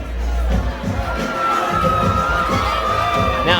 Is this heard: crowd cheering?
yes